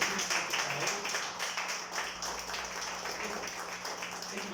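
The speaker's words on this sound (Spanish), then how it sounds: "un aplauso por su clase" Audience applause at a commemorative panel discussion marking the 101st anniversary of the martyrs of 28 August 1924, a steady dense patter of clapping that fills the room at an even, moderate level throughout.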